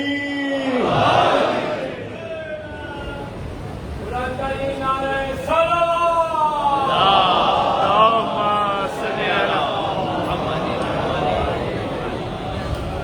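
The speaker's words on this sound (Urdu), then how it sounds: "بلند آواز میں سب مل کے نعرے حیدری" A gathered crowd at a religious majlis gathering shouting a slogan together in loud, sustained unison calls, rising and falling in repeated waves of many voices.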